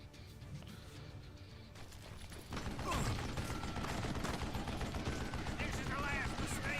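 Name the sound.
gunfire in Call of Juarez Gunslinger video game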